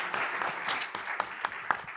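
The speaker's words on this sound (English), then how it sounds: "They deserve that hand of applause." An audience at a United Nations event marking Rwanda's 60th anniversary claps in a brief, moderately quiet burst of applause, individual hand claps standing out within the steady patter.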